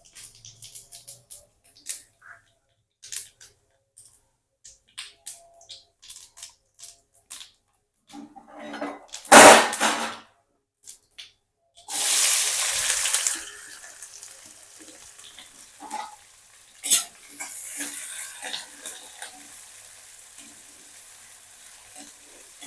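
Cumin seeds tipped into hot oil for a vegetable dish: quiet clicks of utensils, then a sudden loud hissing burst that settles into a steady sizzle with spoon scrapes and stirring clinks against the pan.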